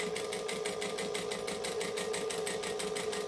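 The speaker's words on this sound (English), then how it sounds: "I'm going to top stitch down that open edge on a decorative stitch length" A sewing machine runs at an even pace, topstitching down an open fabric edge on a decorative stitch length, with a fast, steady, close mechanical rhythm throughout and no voices.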